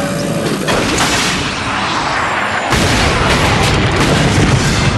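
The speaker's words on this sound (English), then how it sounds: "going to try to hit, hold on, that target with the Devastator, a rocket launcher designed for Ratchet and Clank" Devastator rocket launcher fired at a target in the PlayStation 2 game Ratchet & Clank, loud continuous roaring blasts with a fresh surge partway through, heavy and dense throughout.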